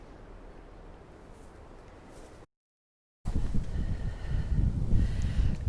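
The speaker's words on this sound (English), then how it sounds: "Rather windy today, actually." Wind blowing outdoors in a garden, heard as a low, steady rush that turns louder and gustier after a brief silent gap.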